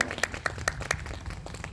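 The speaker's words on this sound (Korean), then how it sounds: "힘찬 동료의 박수 부탁드리겠습니다." Audience applause at a press conference on workplace harassment, a short burst of sharp, fairly close claps lasting under two seconds, moderately loud with a brief trailing off.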